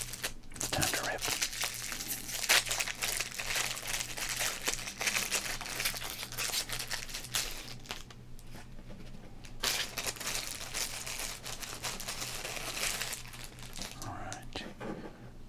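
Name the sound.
ripping open a pack of football trading cards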